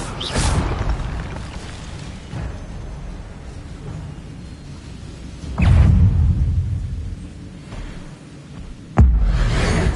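Spellcasting effects in Hogwarts Legacy, Expelliarmus among them: deep booming whooshes and rumbling impacts that swell suddenly, with two strong bursts late on and a low hum between them.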